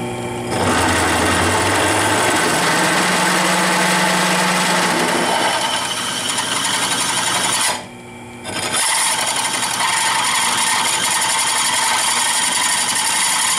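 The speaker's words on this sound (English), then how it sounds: "It's a 1/2-inch drill bit." A 1/2-inch drill bit with a reworked, shallower taper grinds steadily through metal in a Ford 390 carburetor job, a loud continuous whir with a brief pause midway before drilling resumes.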